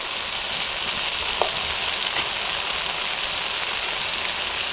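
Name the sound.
new potatoes and spices frying for country chicken curry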